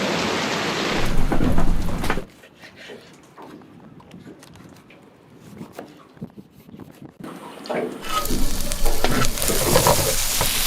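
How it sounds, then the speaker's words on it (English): A thunderstorm hits a boat anchored in shallow water near the Shipwreck Islands, with heavy rain roaring loudly, easing into a quieter patter of drops, then surging back to a dense downpour. "The storm has arrived, Fran."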